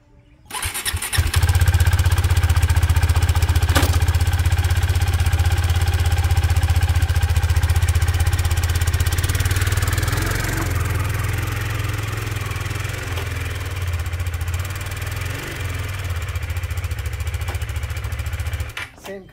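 Motorcycle engine running steadily and loudly as a bike is loaded into a Mercedes-Benz Sprinter van for a trackday, a deep continuous rumble close by for nearly the whole stretch with little variation.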